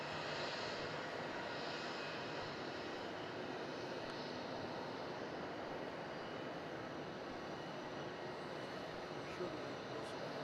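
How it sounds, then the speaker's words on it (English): An Emirates Airbus A380 taxis out at Melbourne Airport in the evening, its engines a steady, broad, distant roar that holds unchanged throughout. "There we go, our Emirates 380,"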